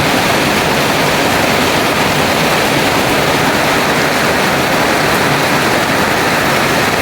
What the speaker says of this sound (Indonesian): Deras betul hujan teman-teman.